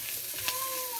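Chopped onions hiss and sizzle steadily in hot oil in a frying pan while cooking Filipino igado, a dense, close and even crackle that lasts about a second.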